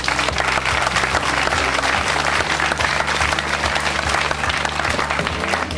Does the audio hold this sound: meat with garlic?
no